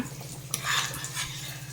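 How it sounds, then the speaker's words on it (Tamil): A spoon scrapes and clinks in a pot while mutton biryani masala is stirred with chilli powder and salt, a brief close metallic rattle over a low steady hum. "ஆட் பண்ணிட்டு இது மிக்ஸ் பண்ணி விட்டுருங்க."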